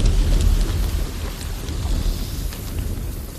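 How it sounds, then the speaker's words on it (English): A heavy rain downpour falls on a night battlefield, a dense continuous hiss and patter with a low rumbling undertone, steady and fairly loud throughout. "soldiers on both sides caught what sleep they could under a heavy downpour"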